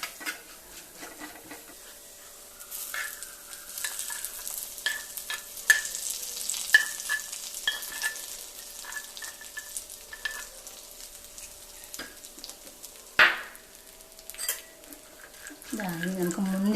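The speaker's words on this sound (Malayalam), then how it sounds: "നമ്മൾ നട്ട്സ് വറക്കുമ്പോൾ ഒരു നുള്ളു ഒരു പിഞ്ചോളം ഒരു ഉപ്പിട്ട് കൊടുത്ത് വറക്കുമ്പോൾ" Nuts fry with a pinch of salt in a pan for a Kerala Onam sweet curry, a steady close sizzle with stirring scrapes and light utensil clinks, one sharper clatter midway and a brief voice near the end.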